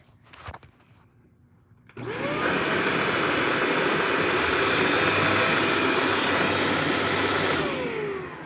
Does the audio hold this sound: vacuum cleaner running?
yes